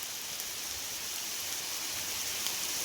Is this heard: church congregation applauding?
no